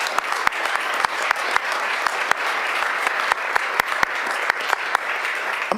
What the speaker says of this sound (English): Let's give another round of applause for the women and men of our city council.